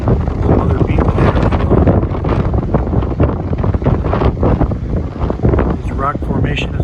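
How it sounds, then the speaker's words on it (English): Strong wind buffets the microphone with a constant rumbling roar on a foggy day beside the water near rock arches, with people's voices faintly mixed in. "So you can hear the wind."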